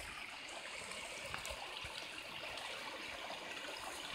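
Stream water on a rural farm property is heard with the camera held underwater, producing a faint, constant rushing wash with scattered soft bubbling pops and no voices.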